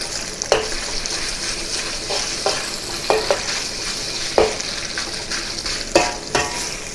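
Beef searing in hot oil in a wok, a continuous crackling sizzle with a spatula scraping and tapping against the metal at irregular intervals, close up with no talking.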